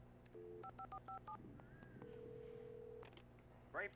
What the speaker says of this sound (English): I believe I have found a phone.